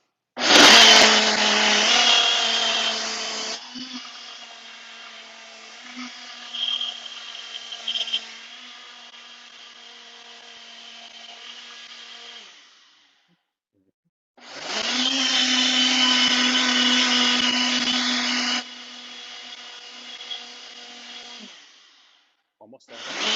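A countertop blender whirs loudly through a banana chocolate protein smoothie in two long bursts, separated by a quieter stretch of clinking and handling noise, with brief speech between blends.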